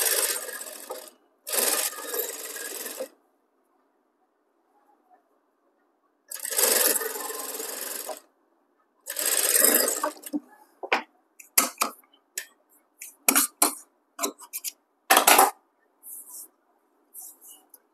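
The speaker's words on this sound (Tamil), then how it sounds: "எப்பவுமே தைக்கும் போது பின்னாடி இப்படி ஒரு கை ஒன்று கொடுத்துக்கிட்டு தைங்க." A sewing machine stitches a blouse in several close, loud whirring runs, with longer bursts early on and a series of short, stop-start stitching spurts separated by silence later.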